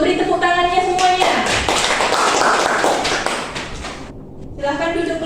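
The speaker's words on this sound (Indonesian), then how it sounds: "Beri tepuk tangannya semuanya." Classroom students clapping for a presenting group in a biology lesson, a burst of dense close clapping that fades out, with voices talking before and after.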